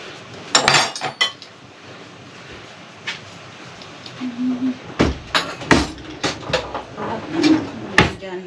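Pots, pans and cutlery clink and clatter in a home kitchen while Filipino beef afritada is cooked, a series of sharp metallic knocks and scrapes, close and fairly loud, with quiet gaps between bursts.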